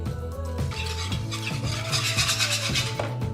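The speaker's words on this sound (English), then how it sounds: "And we get our whisk. And we can whisk this together smoothly." Egg yolks are whisked in a bowl for Caesar salad dressing, giving quick, steady rhythmic scraping and swishing strokes that continue throughout, with a faint tonal background beneath.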